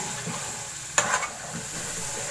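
A pan of masala with yogurt stirred and frying: a steady low sizzle runs throughout, broken near the middle by a short burst of spoon scraping and clatter, then settling back to the even hiss.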